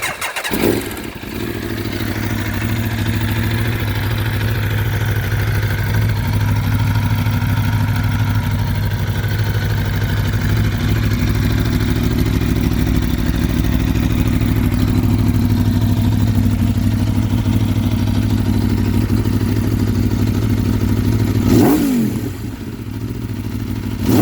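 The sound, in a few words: custom street-legal race motorcycle engine starting and running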